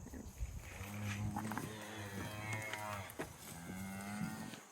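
Cattle in a farm pen give several drawn-out moos, loud and close, one low call following another, with faint shuffling in the background.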